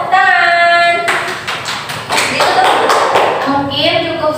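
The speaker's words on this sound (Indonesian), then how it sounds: "Ya, tepuk tangan." A group of students in a classroom claps briefly as a group presentation wraps up, with a few sharp hand claps and taps over background voices and a child's speech.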